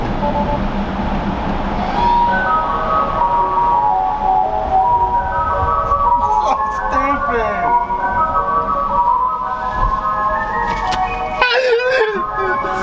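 A tinny electronic ice cream truck melody loops steadily and loudly, with engine noise and faint voices underneath.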